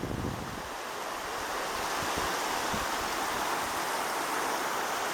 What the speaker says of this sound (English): that's some awful swift water